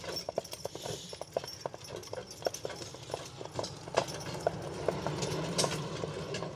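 Percheron and Belgian draft horses clip-clop steadily on pavement, the regular hoof strikes close and distinct over a low rumble from a passing car.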